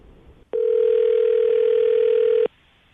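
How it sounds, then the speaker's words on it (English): Ringback tone on an outgoing call from a radio morning show, one steady loud electronic tone lasting about two seconds, cutting in sharply and stopping abruptly with near silence around it. "All right, Jackie, you ready to call him?"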